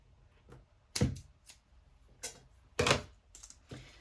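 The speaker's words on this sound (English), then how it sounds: "And then we'll just trim it so that it is flush with the side of the zipper teeth over here and over here." Sharp, distinct snips as scissors trim zipper tape flush with the teeth, several isolated close cuts spaced irregularly in a quiet room.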